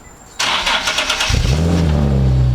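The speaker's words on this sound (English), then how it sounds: "Just aim it at the exhaust of my Prius and let's see how it sounds." A Toyota Prius engine cranks and starts after a brief quiet moment, then settles into a steady low idle rumble close to a leaking exhaust.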